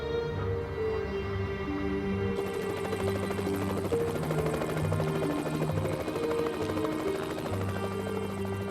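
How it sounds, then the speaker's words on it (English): A BBC news helicopter flies toward a motorway accident scene, its rotor producing a steady, rhythmic low chopping thrum with a constant engine drone, loud and continuous throughout. "The BBC's helicopter was soon on its way to the scene with Anna Rajan, 5 Live's traffic reporter."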